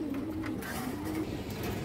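A purple-necked pigeon coos faintly in low, rolling phrases beneath steady background noise, with no voices.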